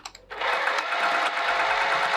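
A sewing machine stitches straight across the top edge of a small curvy clutch, running steadily and up close after a couple of brief clicks at the start.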